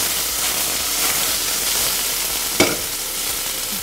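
Potatoes frying to a crispy edge in a hot pan make a loud, steady, dense sizzle throughout, broken once by a single sharp clack of a utensil.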